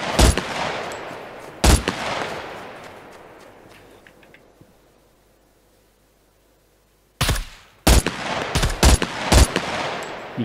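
Loud bursts of gunfire in the survival game SCUM, a couple of sharp shots early, then several seconds of near silence, then a rapid cluster of close shots and bursts toward the end.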